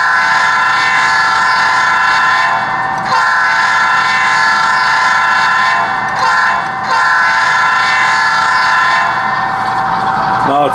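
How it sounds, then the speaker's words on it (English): A P5 horn from the ESU sound library sounds loud and steady through an HO scale model train's speaker. It blares continuously for about eleven seconds, with brief dips in volume. "And then the horn was from the ESU version 4 sound library that you can download from the ESU website."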